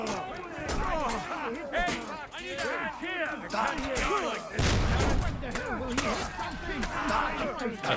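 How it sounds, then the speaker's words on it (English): Cannon fire in the medieval video game Kingdom Come Deliverance 2 booms amid battle noise, with a heavy blast about midway, while voices shout and talk over much of it. "I hear the cannons."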